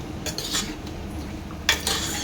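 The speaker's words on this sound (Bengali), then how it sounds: "আমি এবার এটাকে ভালো করে মিশিয়ে দেবো।" A spoon clinks and scrapes in a bowl as sour yogurt is mixed into mutton, giving a few short metallic knocks separated by quiet pauses, close by with no talking.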